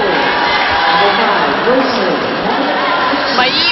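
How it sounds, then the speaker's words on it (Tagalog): Crowd cheering at a V-League volleyball match between Navy and FEU, a loud, sustained roar of voices filling a hall, with a commentator talking over it. "The crowd totally enjoying this match"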